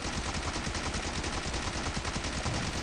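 The PP Bison (PP-19) 9mm submachine gun fires in PUBG Mobile as a continuous, dense burst of rapid automatic gunfire, loud and close, with no pauses.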